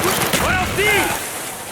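Gunfire in the Call of Duty: Black Ops campaign, a dense burst of weapon fire mixed with whizzing, sweeping effects and mechanical clatter, loud and continuous for under two seconds with no voices.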